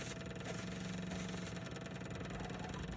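A diesel engine runs at a steady idle, close and loud, with an even low rumble and mechanical clatter that continues unchanged throughout.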